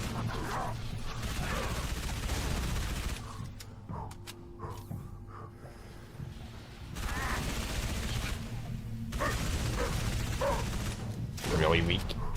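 Bursts of SMG fire in Halo 3 ODST, played on Xbox 360, come in several rapid volleys separated by quieter gaps, with someone talking over the shooting throughout.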